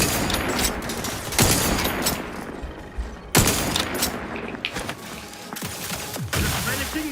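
Gunfire in The Outer Worlds video game: repeated loud bursts of shots and booming volleys spread across the stretch, with game voices faintly mixed in.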